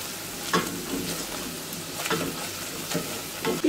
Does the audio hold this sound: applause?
no